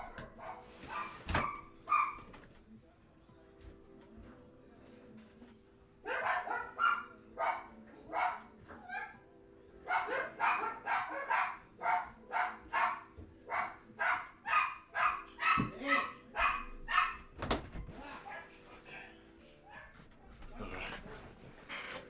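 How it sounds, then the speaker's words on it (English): Several dogs barking downstairs in a house, off-mic but persistent, with rapid bursts of barks and yips across most of the span and a person talking intermittently over them. "I know y'all can hear the dogs"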